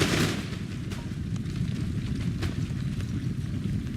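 Musket volleys in an Empire: Total War line-infantry battle, a continuous wash of distant massed gunfire with scattered sharper shots cracking through a dense, steady low rumble.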